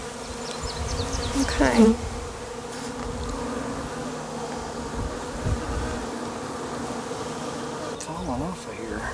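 Dense swarm of honey bees droning steadily around an open hive with fallen queen cells and larvae, loud and continuous, with a brief spoken word and occasional handling noises.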